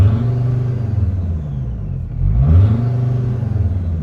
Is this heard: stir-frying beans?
no